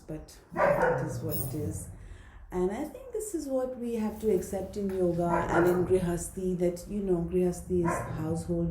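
Household dogs barking and yipping repeatedly in a home during a yoga class, the barks close and loud, mixed in under someone talking steadily.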